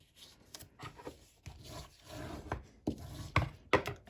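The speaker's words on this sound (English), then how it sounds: "So fold that in half, use your bone folder." A bone folder creases folded scrapbook paper from a 6x6 paper pad for a Christmas mini album, giving quiet, close rubbing and scraping strokes in short bursts with brief pauses between.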